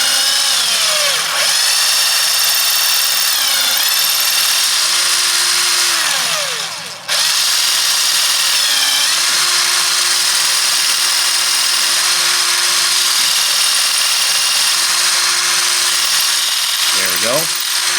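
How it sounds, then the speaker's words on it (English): A power drill bores into the wood of a broken guitar peghead during a repair, whining loudly and steadily with pitch dips as the bit bites, a brief pause midway, then resuming at a constant drone. "if you have to drill that far, these flutes, and they're digging out the wood"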